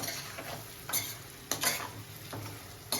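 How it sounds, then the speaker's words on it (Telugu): Eggs frying in a little oil for a garlic chili egg dish: a quiet, steady sizzle with three or four soft spatula scrapes against the pan, close but low in level. "రెండు నిమిషాలు ఇట్లా ఫ్రై చేసి రెండు నిమిషాలు అయిపోయింది కదండి ఎగ్స్ కానీ కొంచెం ఆయిల్లో ఫ్రై అయిపోయినాయి"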